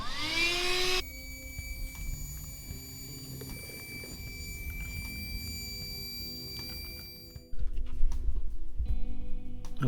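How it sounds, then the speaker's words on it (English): A vacuum cleaner sucks dirt, sand, rocks and debris from a vehicle floor, a loud steady whine starting after a short rising spin-up, with the tone changing near the end as the nozzle moves and debris rattles through. "Okay, so that is vacuumed out and looking way cleaner than it was"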